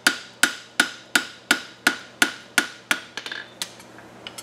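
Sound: hammering a horseshoe bevel on the anvil horn

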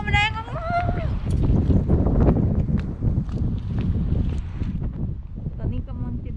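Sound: strong wind outdoors

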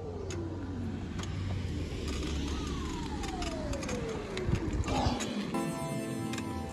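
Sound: car driving by

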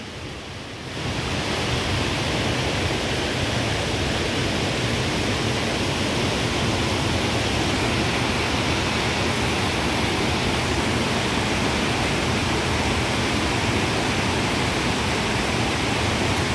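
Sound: flooding river water rushing

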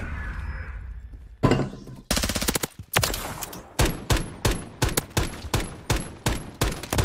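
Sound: gunfire in Modern Warfare III video game

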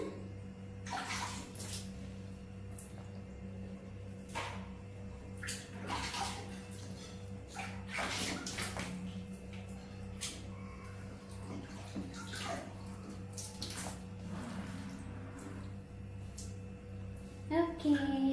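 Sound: water running for a bath

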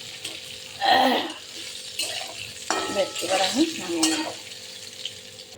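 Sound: pointed gourd (potol) frying in oil

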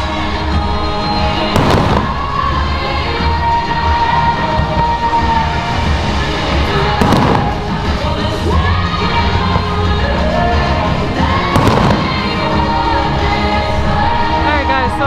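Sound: fireworks

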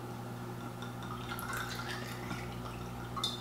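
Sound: pouring Buzzard's Roost bourbon into a glass

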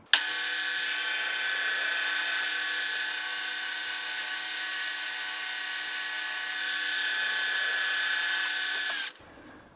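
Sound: drilling 8mm holes in metal bracket

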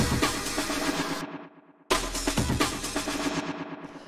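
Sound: drum break fill

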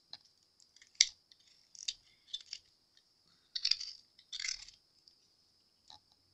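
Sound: Dremel rotary tool trimming a resin hair clip

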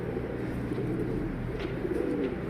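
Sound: pigeons cooing

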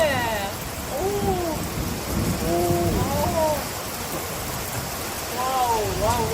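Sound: thunder and rain

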